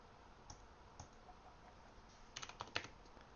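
Keystrokes on a computer keyboard, a few scattered clicks early on and then a quick burst of taps near the end, fairly close and not loud, with no talking.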